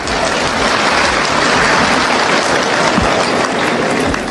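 Dense, sustained audience applause fills an accounting conference hall for ICAN, loud and steady from start to finish with no break.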